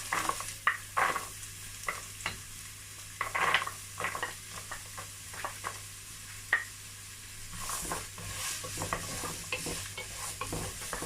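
Carrots sizzle in a hot pan as a utensil stirs them. Irregular scraping clatters sound close over a steady, soft frying hiss, with no one talking.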